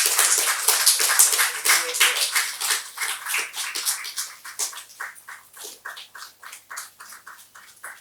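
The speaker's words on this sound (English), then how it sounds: "Please give them a massive round of applause" Audience applause for the first-place team, Astha Chand and team, at the Heritage Treasure Hunt 2025 prize announcement; dense, fairly loud clapping that thins into scattered, rhythmic claps as it winds down.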